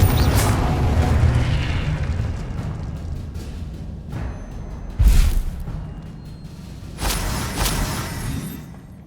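Confringo fire spell explosions in the video game Hogwarts Legacy: a rumbling, roaring mix of booms and whooshes, with a heavy blast near the middle and another burst toward the end, loud and continuous.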